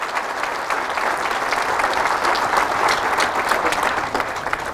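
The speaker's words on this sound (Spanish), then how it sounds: "Dale un fuerte aplauso a la palabra del Señor y Salvador Jesucristo." A church congregation applauding during a Catholic service, loud continuous clapping from many hands filling the room evenly for several seconds, no speech over it.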